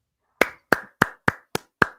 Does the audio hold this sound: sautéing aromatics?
no